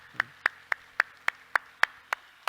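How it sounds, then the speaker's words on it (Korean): A church congregation claps together in a slow, steady rhythm, about nine crisp claps spaced evenly, moderately loud with no talk over them. "우리 하나님께 영광의 박수 합시다."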